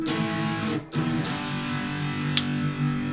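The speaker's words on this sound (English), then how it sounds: "So this is what it sounds like with some distortion in humbucker mode." A PRS SE CE 24 Standard Satin electric guitar in humbucker mode plays through distortion, sustained thick overdriven chords with a brief pick-attack break between strums, loud and alone.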